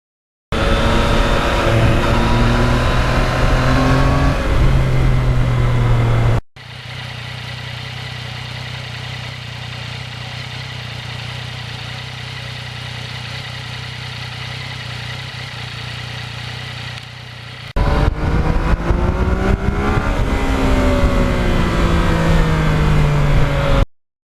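A 2020 Yamaha MT-09 motorcycle engine pulls hard through rising revs, a loud, close droning roar that steadies into a quieter cruising hum midway before climbing again, with no talking.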